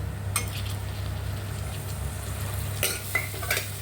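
A tomato is sautéed in oil with chili spices for Vidarbha-style dal bhaji, a soft steady sizzle under a few sharp spoon scrapes and clinks against the pan near the end.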